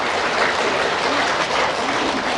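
An audience at a lecture claps steadily, a dense, even wash of applause lasting a couple of seconds.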